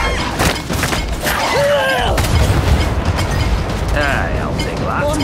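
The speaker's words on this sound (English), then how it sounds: "Bomb's about to blow!" A bomb detonates in Gears 5 with a loud, dense roar and rumble that fills the whole stretch, while in-game voices call out over the blast.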